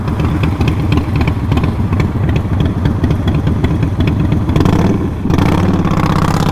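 A loud, close 2011 Harley-Davidson FLSTF Fat Boy engine with aftermarket exhaust pipes rumbles with a deep, throaty exhaust, idling unevenly and briefly blipping the throttle.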